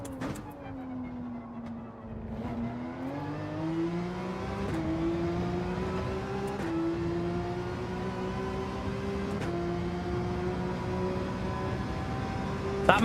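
A McLaren race car engine in Gran Turismo 7 drones and climbs steadily through the gears on a wet Spa lap, pitch rising in long sweeps with brief shift dips, continuous and fairly close with no voices.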